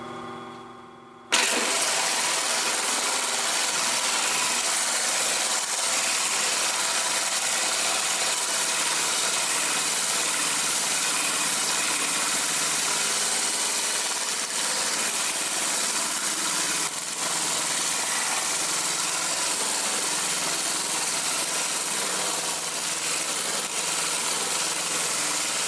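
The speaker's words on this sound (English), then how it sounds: "take this rock and place it flat on the flat lap here" A flat lap grinding machine polishing a cut geode starts with a sudden jump and then holds a steady, loud, continuous whir and grinding drone from close by, with no talk.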